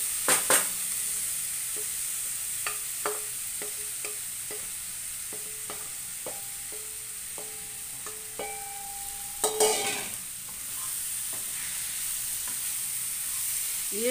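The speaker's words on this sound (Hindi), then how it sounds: "तो अभी डालते हैं ये सब पाउडर, गैस स्लो, और डालते हैं आम।" Mango pieces and spice powders frying on low heat in a pan for pickle, a continuous close sizzle broken by scattered stirring taps and one louder scrape of the utensil.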